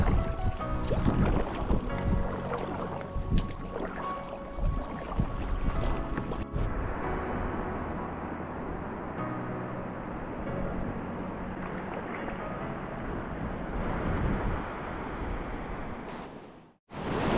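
Paddling a canoe down an arctic river brings a steady rush of flowing water and wind buffeting the microphone, with a few paddle splashes early on and a sudden cutoff near the end.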